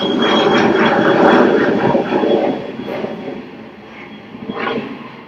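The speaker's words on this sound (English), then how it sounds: "That was the most prolonged takeoff I have ever heard." A jet airplane taking off in the distance, a loud, broad rumbling roar that swells and then gradually fades, with a brief resurgence near the end.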